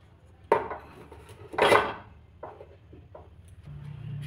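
Cake tin being set onto a stand inside a preheated metal pot, two sharp metallic clanks followed by a few lighter knocks and scrapes, close and isolated in a quiet kitchen, with a low hum near the end.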